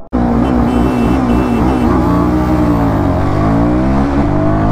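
Royal Enfield Guerrilla 450 and Apache RR310 motorcycles in a top-end drag race, engine roaring loud and steady close by as revs climb and pitch sweeps through gear changes, with a brief voice beneath.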